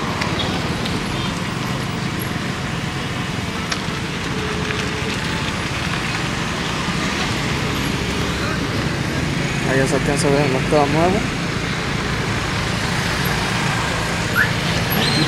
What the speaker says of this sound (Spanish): Aquí ya hay más tráfico